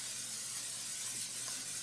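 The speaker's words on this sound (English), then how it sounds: "We're going to spray our skillet one more time." Cooking spray sprayed onto a skillet, a steady, soft airy hiss lasting a couple of seconds, faint and close with no talking.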